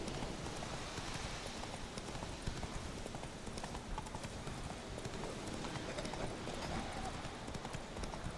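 Hooves of Roach, Geralt's horse in the video game The Witcher 3: Wild Hunt, clip-clop in a steady, continuous rhythm across the whole stretch, with faint rain-like patter underneath and no talk.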